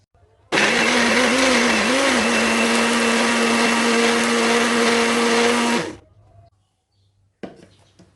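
A blender grinds galangal, ginger and nutmeg with water for beef rendang, running loud and steady with a droning whine for about five seconds, then winding down and stopping, followed by a short clatter.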